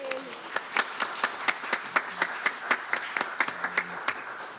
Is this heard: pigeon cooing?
no